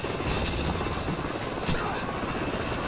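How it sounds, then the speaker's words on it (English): A helicopter approaches in a video game, its rotor roar steady and loud across the whole short stretch, close and unbroken, with no voices heard. "Helicopter troops closing in fast."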